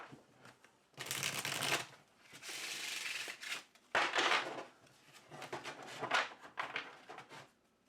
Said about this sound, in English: this deck shuffle's so good